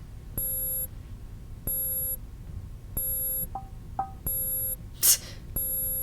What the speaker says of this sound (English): Motion detector.